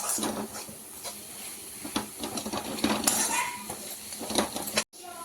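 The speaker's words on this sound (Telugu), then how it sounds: "మంచిగా ఇలా బాగా ఫ్రై చేస్తున్నాం కదండి" Egg with garlic chili masala frying in oil, a spatula clanking and scraping against the pan over a soft sizzle, close and irregular, with no talking.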